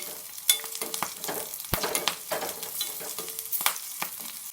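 Green chillies fry in oil for a chilli gravy, giving a soft, even sizzle sprinkled with sharp pops and clicks of a spoon stirring against the pan.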